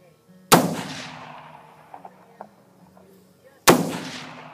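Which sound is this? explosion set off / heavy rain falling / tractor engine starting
explosion set off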